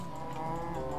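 A cow from the Minecraft video game moos once in a drawn-out, steady low call that fills the whole moment, fairly loud and close, with no talking over it.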